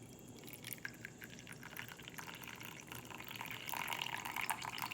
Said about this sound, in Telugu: మంచిగా చల్లారిపోయింది, దీన్ని ఫిల్టర్ చేసుకుందాం